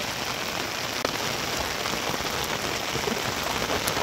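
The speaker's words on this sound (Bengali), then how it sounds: "অনেক বৃষ্টি, অনেক বৃষ্টি" Heavy rain pours near Seven Sisters Falls in Cherrapunji, Meghalaya: a dense, steady hiss of drops striking surfaces close by, constant throughout with no talking.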